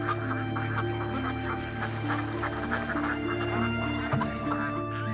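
Migratory waterfowl, likely geese and ducks resting in a coastal bay, honk and quack in a dense, continuous chorus, with one lower call sliding near the end.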